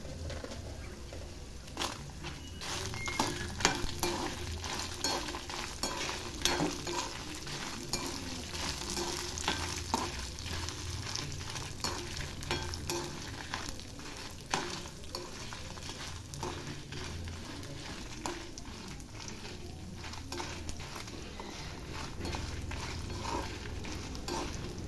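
Coriander seeds, chana dal, cumin and dried red chillies frying in a pan, a steady close crackle and sizzle with intermittent stirring scrapes and pops throughout, no voices.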